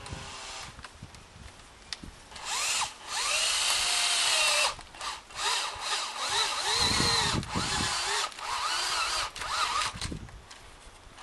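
A power drill with a 4.8mm bit whirs in several short bursts, spinning up and slowing as it drills out plastic inserts, fairly close with quiet pauses between.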